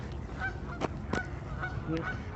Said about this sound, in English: There's the ducks with the geese.